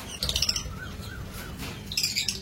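Small caged birds, pigeons in a loft by one account and lovebirds by another, give bright chirps and tweets in two short bursts separated by a quieter stretch, with no one talking.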